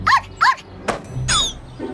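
Dogs barking in an animated children's cartoon: two quick, high yapping barks, then a sharper yelp and a longer whining bark, close and loud.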